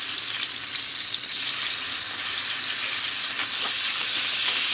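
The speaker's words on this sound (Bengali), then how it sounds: "এটা একটু হালকা নাড়াচাড়া করে ভেজে নেব।" Paneer pieces frying in hot white oil in a kadai, a steady close sizzle with light stirring, no talk.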